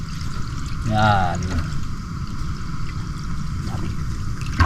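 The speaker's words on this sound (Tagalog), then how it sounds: "lagyan natin ng tubig" Water poured into a pot for coffee over an open fire outdoors, a short, close splashing pour lasting about a second with a voice speaking over it.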